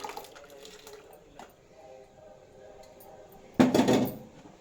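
Soaked sago poured together with its soaking water into a pot of milk: a loud wet splash and pour near the end, after a quiet stretch with faint kitchen clinks.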